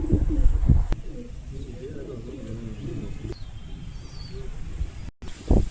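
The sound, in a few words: pigeons cooing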